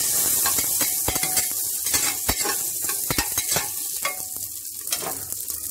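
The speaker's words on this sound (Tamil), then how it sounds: "நல்லா எடுத்து ஃப்ரை பண்ணிக்கோங்க" Cut potatoes frying in a pan with a bright, steady sizzle, punctuated by quick stirring scrapes and clicks of a spatula, close and loud.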